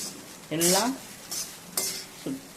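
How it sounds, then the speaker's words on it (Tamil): Cooked rice stir-fried in a pan for garlic fried rice: loud close scraping of a spoon against the metal pan in a few sharp strokes over a faint sizzle, with no talking. "சாதம்லாம் இதில் நான் போட்டுட்டு நல்லா வறுக்கணும்"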